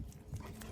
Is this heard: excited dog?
yes